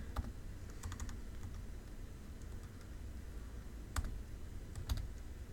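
Steady typing on a computer keyboard, soft key taps in a continuous stream with a few sharper clicks, close by in a quiet room.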